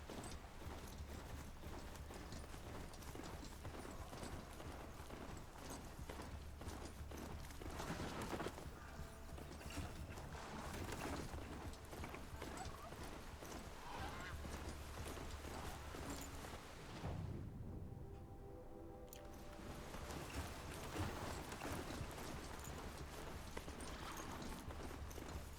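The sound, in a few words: horse hooves clip-clopping in video game Horizon Zero Dawn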